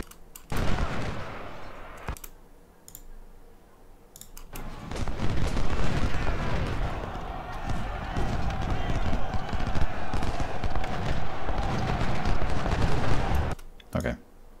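Dense rolling musket volleys and booming artillery fire from the Civil War strategy game Ultimate General: Civil War build into a sustained roar, with someone talking over the battle noise.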